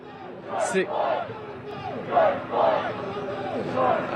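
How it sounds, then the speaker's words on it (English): A large protest crowd in a park chants in rhythmic, repeated waves, with a steady rise and fall of many voices at moderate distance, one sharper shout near the start. "They're kind of leading the crowd in some chants right now."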